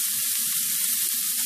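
Thin-sliced meat for cheese steak browning in a hot pan, a loud, continuous close-up sizzle with a dense hiss and no pauses.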